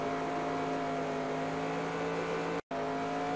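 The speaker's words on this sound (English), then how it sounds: "Stay at full throttle and let the car drift to the right through the little left kink before the start-finish line." Race car engine held at full throttle in NASCAR Racing 2002 on the Sears Point/Sonoma road course, a steady loud drone with harmonic whine that cuts out for a split second near the end before resuming.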